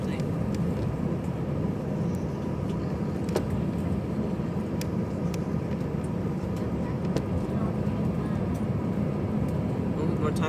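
A Delta Air Lines Airbus A320-214 taxis for takeoff at Austin, a steady loud rumble of engines and rolling noise heard from inside the cabin, continuous throughout with faint clicks.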